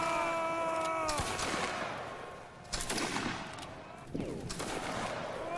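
Musket volleys crack out in a Waterloo battle video game, with several sharp bursts of overlapping shots and rolling echoes spread over a few seconds.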